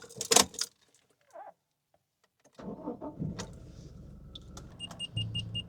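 Keys jangle near the ignition of a Toyota Hilux, then after a quiet pause the engine cranks and catches, settling into a low steady idle with a few small beeps at the end.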